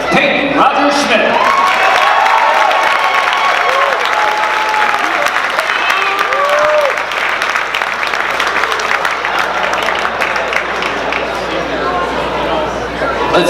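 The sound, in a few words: applause honoring student athletes at basketball game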